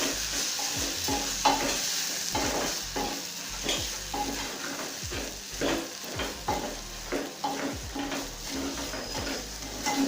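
Matoke and beef stew stirred in a pot, a steady run of scraping, sloshing strokes over a continuous sizzle of frying, close and fairly loud with no talking.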